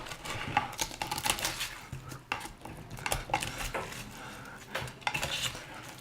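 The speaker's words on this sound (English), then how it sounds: "Now we're going to scrape all this off the bottom." A metal utensil scrapes crispy parmesan potatoes stuck to a pan bottom, giving repeated close, rattling scrapes and clinks in an irregular rhythm, with no talking.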